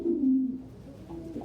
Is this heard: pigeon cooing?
yes